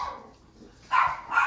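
Two short dog barks ring out a moment apart, fairly close, with no talking over them.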